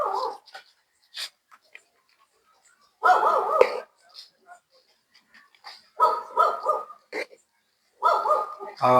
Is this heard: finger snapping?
no